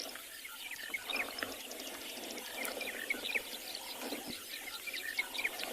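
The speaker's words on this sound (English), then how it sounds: "In the distance we can hear all those wattle starlings, Kalahari scrub robins." Wild birds such as wattled starlings and Kalahari scrub robins chirping and calling at sunset on a Kalahari safari, scattered high twitters over a steady soft background, distant and faint.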